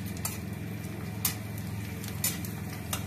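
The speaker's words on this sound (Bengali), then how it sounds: "পাঁপড়টা ভাজছি কি সুন্দর" Papad fries in hot oil with a soft, steady sizzle, broken by a few sharp scraping clinks of a utensil against the pan at intervals, close and fairly quiet.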